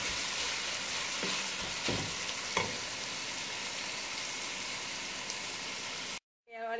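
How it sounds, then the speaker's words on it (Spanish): Beef frying in a pan with bell peppers gives a steady, close sizzle and crackle throughout, with a few brief stirring scrapes and no talking, then cuts off abruptly near the end. "Lo voy a dejar así a que se fría muy bien mi carne."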